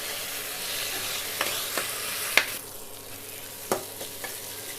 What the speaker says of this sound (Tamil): இப்போது கத்திரிக்காயும் எண்ணெயில் வதக்கியாச்சுங்க.